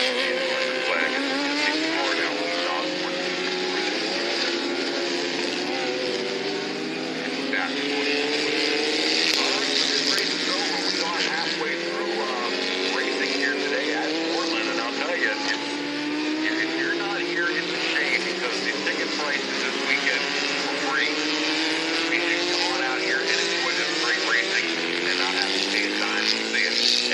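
Formula race cars at an SCCA Majors event in 2018 scream past in continuous rising and falling engine whine, mid-distance and steady, under an announcer's race commentary.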